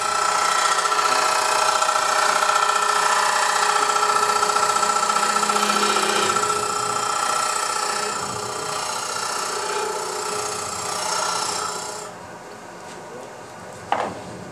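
A skew chisel works a spinning wood blank on a lathe, a steady loud grinding hum with rough scraping texture that runs continuously, eases slightly midway, then drops away near the end with a brief knock.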